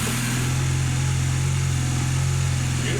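A Honda CB250 motorcycle engine runs on choke after starting, a steady close low chugging with an even pulsing rhythm throughout.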